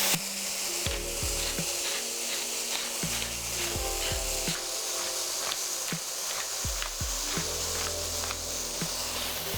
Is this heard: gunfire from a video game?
no